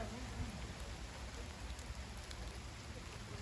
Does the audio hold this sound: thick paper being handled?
no